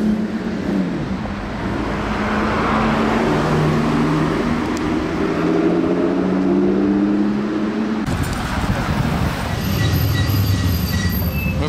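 A Lamborghini Aventador SVJ's V12 roars loudly and steadily for several seconds, its pitch wavering as it revs, then gives way abruptly to a harsher, noisier rumble.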